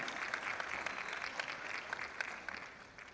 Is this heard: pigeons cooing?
no